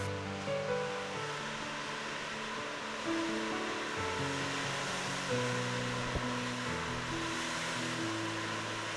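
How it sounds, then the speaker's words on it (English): Ocean surf washes against the rocky Yachats coast in a steady, broad roar, moderately quiet and continuous, with a low humming drone running underneath and no voices. "There's the old ocean right out there"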